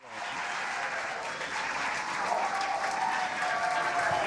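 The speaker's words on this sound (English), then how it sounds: "Everybody's clapping" A crowd watching a SpaceX rocket launch broadcast bursts into sustained, loud clapping and cheering that swells steadily, with faint voices mixed in.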